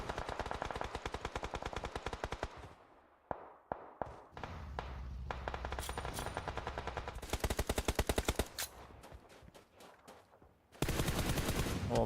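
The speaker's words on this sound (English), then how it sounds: "beautiful shooting coming in here from Lath" Rapid automatic gunfire from the mobile battle royale game PUBG Mobile, heard during a competitive esports match, comes as loud close bursts and volleys separated by brief pauses and scattered single shots.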